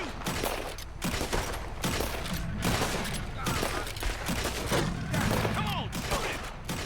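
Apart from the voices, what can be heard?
gunfire in Red Dead Redemption 2 video game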